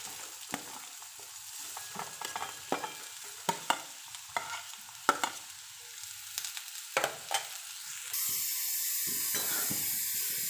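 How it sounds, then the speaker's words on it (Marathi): Onion sautéing in oil in a pan for pav bhaji, a soft sizzle under repeated scraping and stirring strokes, close and fairly quiet, with no talking. "आपण परतून घेणार आहोत कांदा."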